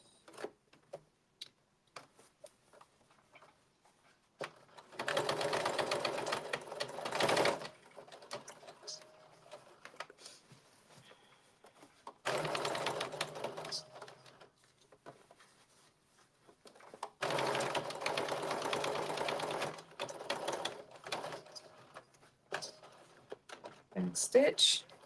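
A sewing machine back-stitches a blazer in three separate bursts of rapid, close mechanical whirring, with quieter ticks and handling noises in the gaps between them.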